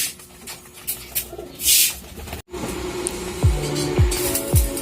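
Racing pigeons coo at a home loft, several soft descending coos repeating close by after a brief gust of flapping or rustling.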